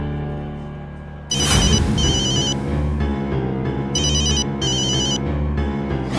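A phone ringtone repeats in bursts of electronic trilling tones over a low musical background, loud and close, while a call is placed.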